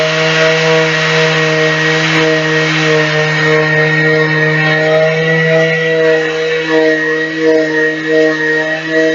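An electric sander runs steadily at close range, a constant buzzing hum with strong tonal harmonics and slight variations in pitch as it works.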